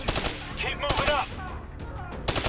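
Gunfire in Call of Duty Black Ops 3, several loud sharp shots in quick irregular bursts with brief gaps, over a busy game soundscape.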